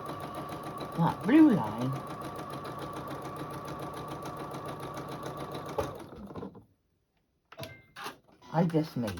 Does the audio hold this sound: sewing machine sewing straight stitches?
yes